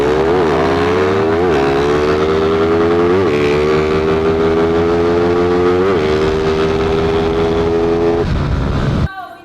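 Stock-engine underbone motorcycles, a Suzuki Raider FI and a Rusi Flash, drag racing: loud, continuous high-revving engine whine rising through several gear shifts with brief dips between, ending abruptly.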